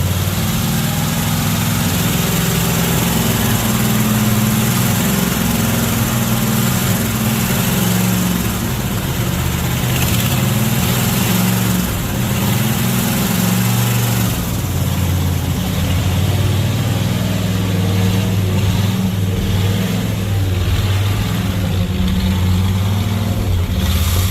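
A 1970 Chrysler Newport convertible's engine idles steadily and close by, a continuous low rumble with slight unevenness and occasional small rises in revs, with no talking.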